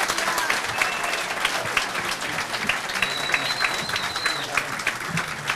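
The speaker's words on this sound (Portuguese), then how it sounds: "Aplausos aí pro Paulo Pimenta, nosso companheiro." A crowd at a rally in defense of freedom of expression applauds in a continuous, moderately loud wash of clapping, with voices and shouts mixed in throughout.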